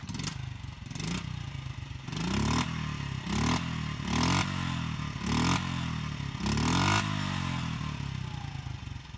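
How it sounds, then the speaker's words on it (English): Small Honda mini bike engine, either a CRF50 or Z50 with a gunked-up carburetor, cranking and firing in repeated bursts, revving loudly several times in a rough rhythm before settling toward idle, close to the listener. "So that was a rev, and this is idle speed right here."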